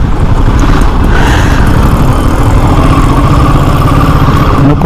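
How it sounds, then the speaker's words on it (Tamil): A Panther motorcycle engine idles in neutral, a loud, steady close-up rumble that holds even and unbroken with no talk over it. "கீர் அந்த நியூட்ரல் பண்ணுற சவுண்ட்லாம் சவுண்டே கேட்க முடியுது."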